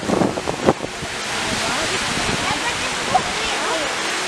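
Sea surf rolling onto a beach makes a steady broadband wash with wind noise buffeting the microphone, while nearby voices talk briefly over it.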